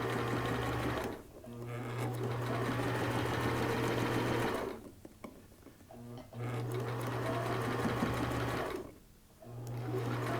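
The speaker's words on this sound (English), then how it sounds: "So I'm using that presser foot as a guide again, and we're just going to sew right up to that 1 inch opening" Sewing machine stitching turban fabric with the presser foot as a guide, loud steady mechanical whirring in three long runs separated by short pauses.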